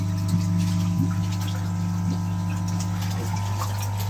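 Water from the pump in a koi pond filter system flows steadily, with a constant low mechanical hum and a few faint ticks and splashes underneath.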